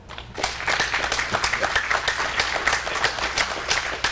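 A town hall audience breaks into applause, starting abruptly and holding as a dense, fairly loud wash of many hands clapping, sustained for several seconds with no talking over it.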